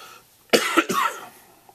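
Two or three harsh coughs from someone getting over a cold, in quick succession, close and distinct, after a brief quiet moment.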